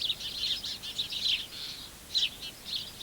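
Sparrows chirp near their nest in a wall or roof hole, a run of faint, high, quick tweets coming in short bursts with brief pauses between them.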